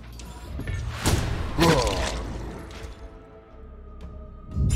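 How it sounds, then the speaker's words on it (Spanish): A cannon shot fired in the dark fantasy strategy game Iratus: Lord of the Dead, landing as a heavy thud with crashing impacts and a few rumbling bursts, close and loud over game background sound. "Cañonazo."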